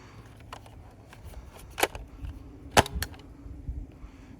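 A Nerf Elite 2.0 Flip Blaster fires a foam dart, giving a few sharp clacks and a quick snap among soft handling noises, close and fairly quiet.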